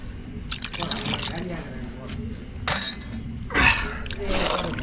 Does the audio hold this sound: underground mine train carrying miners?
no